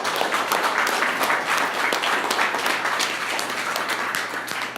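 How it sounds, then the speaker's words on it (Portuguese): A church congregation gives a round of applause for the Lord during a worship service, dense, continuous clapping filling the hall for several seconds, tapering slightly at the end. "Vamos dar uma salva de palmas para o Senhor."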